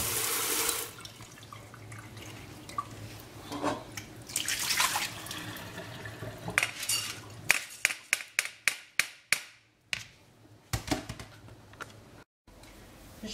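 Rice being rinsed under cold running water from a tap in a kitchen sink, a steady rush of flowing water that breaks into a run of quick splashes and drips near the end, with no talking.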